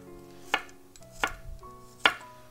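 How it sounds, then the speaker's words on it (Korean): A knife cuts thick slices of garlic cloves on a cutting board, three distinct crisp chops spaced roughly three-quarters of a second apart over a faint kitchen hum. "이제 마늘 6개 편 썰어주는데요, 굳이 얇게 썰 필요 없어요. 두툼하게 써세요."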